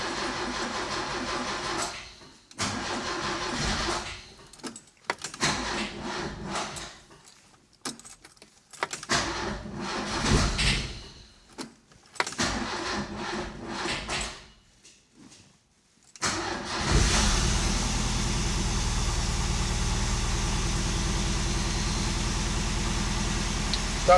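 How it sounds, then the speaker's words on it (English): A car left unused for about a week, fitted with a new electronic ignition kit, cranks in several uneven bursts with pauses and clicks, then catches and settles into a steady, loud running idle close by. "try and start the car after a week or so"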